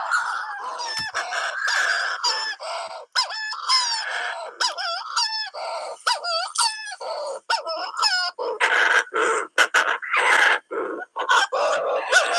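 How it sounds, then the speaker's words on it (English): A recording of a Manx shearwater plays a run of harsh, cackling, crowing calls. The hoarse rising and falling notes repeat rapidly and loudly for several seconds, with no other sounds. "It's the call of a Manx shearwater."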